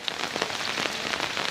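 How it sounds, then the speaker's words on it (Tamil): Steady rain falls on a flooded village, a dense, even patter with no pauses and no voices. "எங்கள் ஊர் மழை பெஞ்சு ஏரி ஆகி போச்சு."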